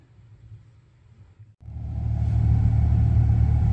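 Inside a moving car, the cabin is quiet for about a second and a half, then a low road and engine rumble swells and holds steady and fairly loud, with no talk.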